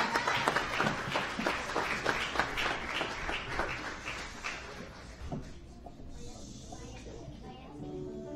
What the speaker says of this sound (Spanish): Fuerte el aplauso para nuestros artistas